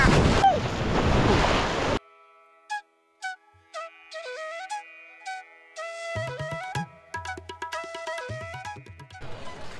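Sea waves at Puri beach give a loud, close, rushing wash for about two seconds. Melodic musical tones take over after that.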